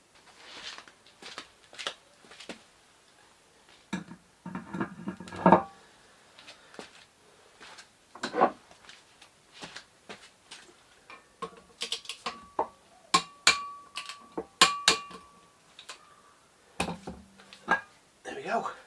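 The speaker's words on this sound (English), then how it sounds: "I'm just going to torque them up using the wheel method and my torque wrench, tightening them up to 73 Newton meters" A torque wrench tightens the hub nuts on a Land Rover Discovery 1 front stub axle to 73 newton metres, giving a scattered run of sharp, close ratcheting ticks and clicks in short bursts, with a few louder snaps toward the end.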